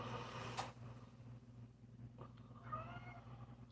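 Domestic cat meowing indoors, a couple of short, faint calls rising and falling over a steady low household hum, with no talking.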